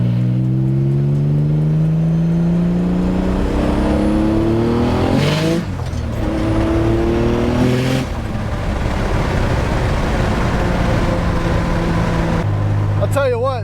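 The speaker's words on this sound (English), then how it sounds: "I love the sound of these open wastegates." A turbocharged project car with built heads, built bottom end and open wastegates roars loudly nearby, its engine pitch climbing and falling through several revs with a sharp rasping burst midway and a settling idle near the end.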